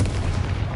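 A Confringo explosive spell cast in Hogwarts Legacy: a dense, booming blast with deep low-end rumble sustained through a brief, loud moment.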